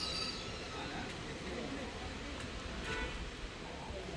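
A Konkan Railway special train pulls out of Rajapur station, a steady broadband rumble of rolling wagons with faint high squeals and brief clanks throughout, heard from on board.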